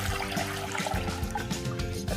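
Water pours and splashes steadily into a container for making gelatin, a faint, continuous liquid trickle lasting a couple of seconds.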